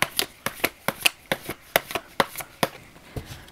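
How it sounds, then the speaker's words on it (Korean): A deck of thick, matte-finish tarot cards is shuffled close by, giving about a dozen crisp papery riffles in a quick, fairly even rhythm. "셔플할 때 사각사각 소리 난다."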